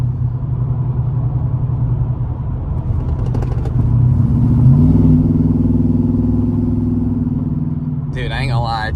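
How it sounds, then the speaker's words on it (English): A car exhaust with headers gives a low, medium rumble that swells as the revs rise partway through, then settles into a steady drone, with a voice briefly heard at the end. "it's a pretty nice little medium rumble"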